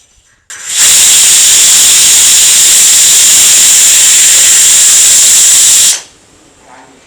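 A pressure cooker full of jackfruit seeds lets out a loud, steady hiss of steam. The hiss lasts about five seconds and then stops sharply, leaving quiet kitchen background.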